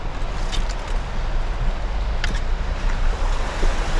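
A waterfall at an Ozarks camping spot, a steady broadband rush of falling water with some wind, continuous and fairly close.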